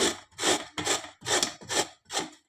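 Raw mango is scraped against a hand grater in six steady back-and-forth rasping strokes, loud and close, with brief pauses between each stroke and no talk.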